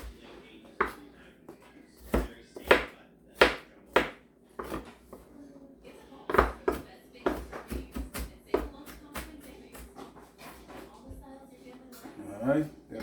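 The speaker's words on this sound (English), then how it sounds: "Alright, got our onions cut up." A knife chops onions on a board in irregular sharp knocks, some quick bursts and some spaced apart, close and fairly loud, with someone talking in between.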